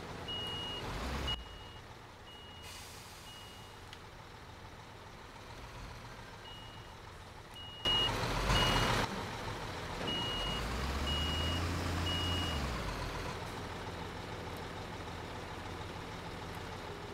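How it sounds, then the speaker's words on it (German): A truck in the Bau-Simulator 2015 construction game drives off to a steady series of regularly spaced reversing beeps over a low engine rumble, with a brief louder burst of noise partway through. "Ich fahre mal den LKW hier weg."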